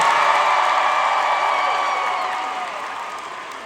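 Concert crowd at a large live show in Detroit applauding and cheering loudly, a dense roar of clapping and whoops with some scattered shouts, filling the space and slowly fading over a few seconds.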